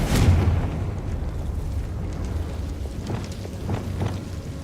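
A Confringo blasting curse goes off in Hogwarts Legacy, a booming burst at the start that leaves a low rumbling wash of debris and crackle fading over the next few seconds.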